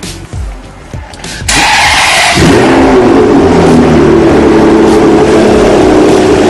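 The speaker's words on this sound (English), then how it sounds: "why don't we just start the engine and see how it can make a perfect sound." A Ferrari 599 engine cranks with push-button ignition and fires up after a brief quiet stretch, then settles into a loud, steady, throaty idle close to the microphone.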